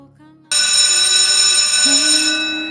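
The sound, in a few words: school dismissal bell ringing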